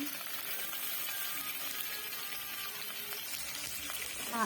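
Fish with potatoes and vegetables fry in a pan while being stirred, giving a steady, even sizzle with faint scraping at a moderate, close level and no talking.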